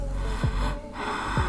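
A voice imitates heavy breathing heard on a silent late-night phone call, with two raspy, snort-like breaths about a second apart, close and fairly loud with no words.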